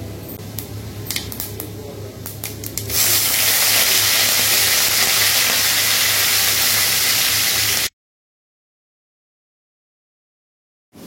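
Mustard seeds, cumin, urad dal, chana dal and curry leaves sizzle in a pan of hot oil on a stove: a loud, continuous close hissing crackle that starts after a few light clicks, then cuts to silence.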